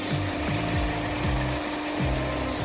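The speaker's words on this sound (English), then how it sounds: "we don't necessarily want them as little seeds, we're going to grind them up" An electric grinder with its lid on grinds about 55 grams of freeze-dried raspberries for flapjacks. It gives a steady, loud whirring buzz with rattling that surges in uneven pulses, heard on its own.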